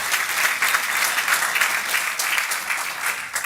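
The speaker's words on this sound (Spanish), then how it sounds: "applause to the Lord." A church congregation applauds during a bilingual sermon, a steady wash of many hands clapping at moderate level, continuous for a few seconds with no talk over it.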